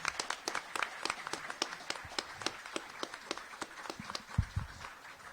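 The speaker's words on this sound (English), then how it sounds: "give a round of applause for our panelists" An audience at an interreligious panel discussion applauds the panelists with scattered, rhythmic individual claps, moderately close and steady for several seconds.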